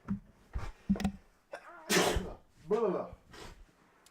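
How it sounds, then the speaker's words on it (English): A person at a gaming microphone sneezes hard several times in quick succession during allergy season, with short gasps and breaths between the bursts, heard close and fairly quiet. "You just heard me absolutely sneeze my brains out"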